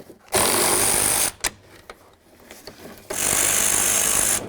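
Two loud, close bursts of a power wrench whirring, each about a second long, removing 10mm side mirror mounting nuts on a Chevy S-10 door, with quieter clicks and handling noises between them.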